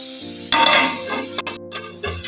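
Spice paste being stirred in a cooking pan for a pomfret curry, with close metallic scrapes, clinks and soft sizzling in short bursts, with no talk.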